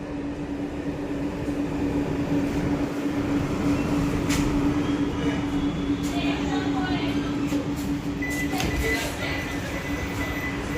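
Kolkata Yellow Line metro train running near Jai Hind airport station, a steady loud rumble with a constant whine throughout and faint clicks, heard from inside the carriage.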